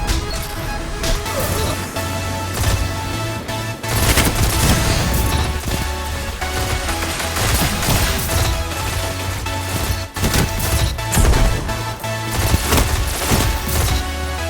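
A Syncopation-53 stasis pulse rifle fires in the Destiny 2 video game, with rapid bursts of sharp gunfire and impacts recurring across the clip amid other game effects and a low steady hum.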